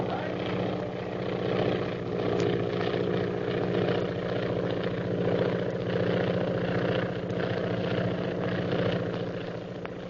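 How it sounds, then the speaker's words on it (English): A propeller airplane engine drones steadily in an old radio drama, a continuous even hum with a faint pulsing beat throughout. "There's a plane following us."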